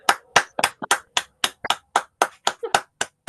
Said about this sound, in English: do open your mics and say thank you, or indeed feel free to clap as if we were in a room together